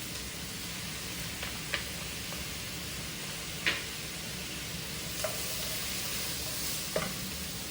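Onion and garlic frying in a pan over medium heat, giving a steady soft sizzle throughout with a few light clicks and stirring taps, fairly quiet and without talk.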